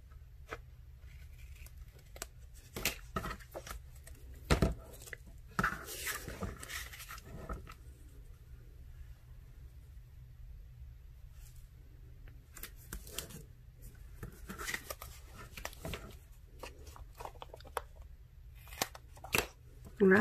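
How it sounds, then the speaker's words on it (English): Scissors trim paper for a craft autograph book in short, soft snips and rustles scattered across a quiet room, with pauses between cuts. "I decided I would cut it this time and get it closer to the edge."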